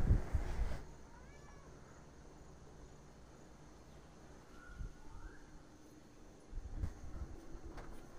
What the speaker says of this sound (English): My cat was panicking, so I had to let her in.